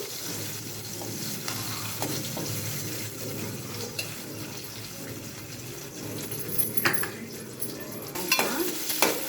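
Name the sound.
onions frying with mustard seeds and cumin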